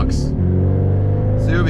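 Loud Tomei exhaust on a 500hp Subaru STI, a steady deep rumble that holds for the whole moment at close range, with brief hissy bursts near the start and end.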